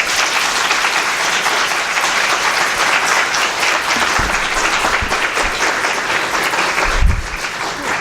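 An indoor audience claps steadily for the briefers after a presentation, a dense and even applause that stays at a constant level for several seconds, with a couple of low thumps near the end.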